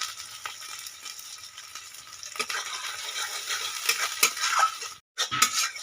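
Ground spice paste frying with onions in a pan, giving a moderate sizzle with stirring scrapes and light utensil clinks, and a brief pause near the end.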